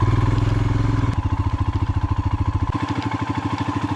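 A motorcycle rides through snow slush at Sela Pass, its engine chugging steadily up close with a pulsing low drone and a rhythmic clatter that shifts pitch slightly as the rider changes speed.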